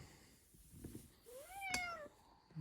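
A cat lets out a single rising-and-falling meow, close and fairly quiet, with faint shuffling around it.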